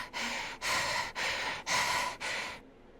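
A character in the game Hundred Line Defense Academy breathing heavily: five loud, rough, rasping breaths in a steady rhythm, close up, followed by silence.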